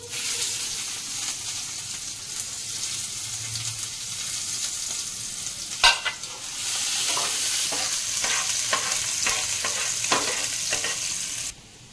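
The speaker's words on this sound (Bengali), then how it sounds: "এবার একটা পেঁয়াজ কুচি করে কেটে রেখেছিলাম, ওটা এখন দিয়ে দিচ্ছি।" Chopped onion drops into a pan of hot oil where garlic cloves have already been fried, and a loud splash of sizzle follows. A steady fry continues with repeated stirring scrapes, close up with no talking.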